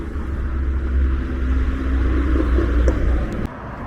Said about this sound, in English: Certainly like the throaty exhaust around here though